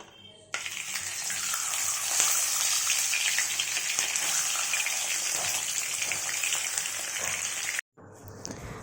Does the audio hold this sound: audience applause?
no